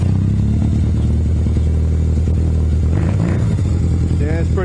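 A Honda CB250 motorcycle engine runs loud and close with the choke on, a rough steady idle that rises into revs, with a voice talking over it.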